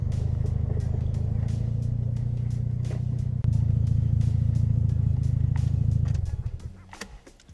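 A low, steady groaning drone from a Mazda RX-7's front suspension, likely worn ball joints, when turning left, holds for about six seconds, then cuts out and fades, with no voices over it.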